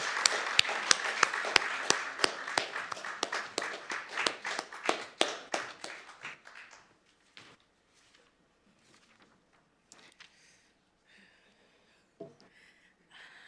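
Audience applause at a poetry reading, many claps that gradually thin out and fade, leaving a few scattered sounds in a quiet room.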